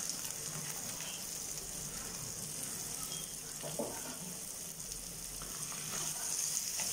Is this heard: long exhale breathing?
no